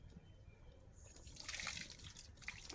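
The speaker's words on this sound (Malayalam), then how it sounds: "ഒക്കെ ഒന്ന് കുതിരണ രീതിക്ക് കുറച്ച് വെള്ളം ഒഴിക്കുക." Water is poured from above onto potting soil while replanting a lotus, giving a soft, close trickling and splashing that swells in the middle and lasts a few seconds.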